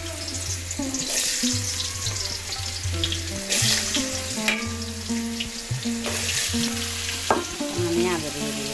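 Potatoes fry in a home kitchen pan, a steady close sizzle running the whole time with occasional stirring clatter, while a tonal hum and faint music-like background sit underneath.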